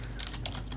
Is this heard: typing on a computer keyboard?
yes